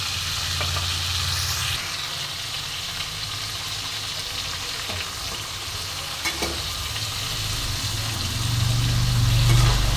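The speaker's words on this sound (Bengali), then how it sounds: "তাই জন্য আমি সবজিগুলোকে একটু ভাজা ভাজা করে নেব" Mixed vegetables fry for a coconut curry, seasoned with turmeric and salt, giving a steady loud sizzle with stirring scrapes throughout and a brief swell of frying near the end.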